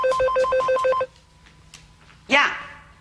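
An old-style telephone rings in a short burst of rapid repeated trills, then falls quiet before a brief rustle or voice-like sound follows, set in a domestic drama scene.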